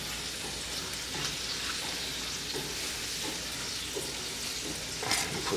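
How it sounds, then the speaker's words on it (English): Butter melts and sizzles in a hot pan alongside a New York strip steak seasoned with salt and pepper, giving a steady, close frying hiss with small crackles throughout. "Put 2 things of butter in there."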